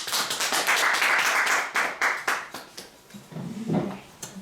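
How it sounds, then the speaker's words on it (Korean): An audience at a medical student workshop claps for a presenter, a burst of close applause that thins out into scattered individual claps before fading. "큰 박수로."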